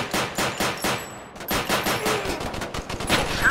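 Rapid, sustained gunfire from the VR shooter Crisis VR 2, dense bursts of shots close and loud across the whole stretch with only a brief lull partway through, no talking.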